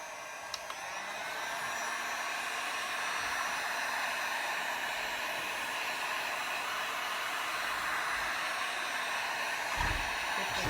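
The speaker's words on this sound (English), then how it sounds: "Gonna plug in my heat gun." Heat gun blowing hot air over resin in a Dutch pour, a steady, even hiss of moderate loudness running continuously after a brief start.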